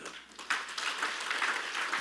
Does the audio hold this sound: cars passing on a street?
no